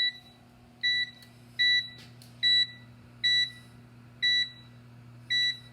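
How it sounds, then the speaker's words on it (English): Kitchen oven timer beeping as it is set for cookie baking, seven evenly spaced clear electronic beeps, close and fairly loud over a steady appliance hum. "And now we're going to set our timer for 10 minutes."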